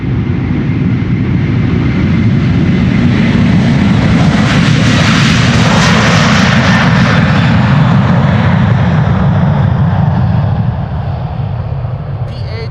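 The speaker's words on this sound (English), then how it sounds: "This is KLM flight 787 to Sint Maarten." A KLM jet airliner taking off from Amsterdam Schiphol for Sint Maarten, a loud, close engine roar swelling to a peak mid-way and easing slightly as it departs, with faint talk underneath.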